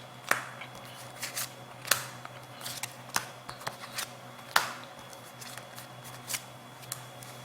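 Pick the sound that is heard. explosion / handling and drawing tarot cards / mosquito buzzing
handling and drawing tarot cards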